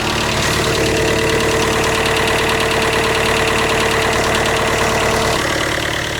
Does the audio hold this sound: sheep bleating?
no